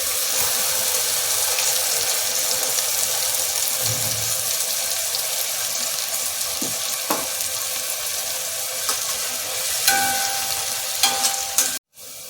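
A paste of onion, garlic, ginger, green chilli and coconut fries in a wok for chicken curry, a continuous dense sizzle with occasional scraping and stirring clatter, loud and close.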